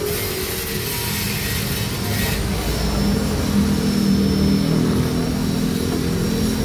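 An Isuzu 4BA1 diesel engine in a Philippine jeepney runs steadily during an oil flush, a loud continuous mechanical drone with a broad rumble that holds without break throughout.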